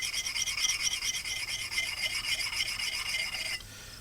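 Steady rhythmic rasping strokes of an axe edge being sharpened, working the burr back over, close and fairly loud, continuous for most of the clip before dropping off to a quieter scrape near the end.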